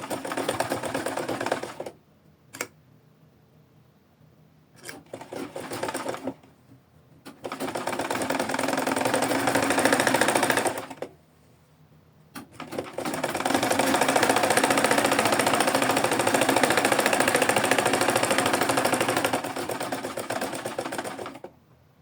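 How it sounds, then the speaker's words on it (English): A sewing machine stitches a fabric necktie at a half-inch seam in close, loud, fast-whirring bursts of several seconds each, separated by short quiet pauses where the fabric is repositioned. "I'll flip it over and I'll sew it to a point. I'm sewing 1/2 inch now."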